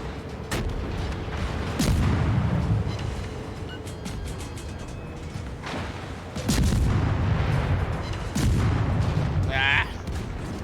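Torpedo hits explode during a World of Warships naval battle: repeated heavy booms and rolling rumbles over constant engine and sea noise, loud and close, while a person talks.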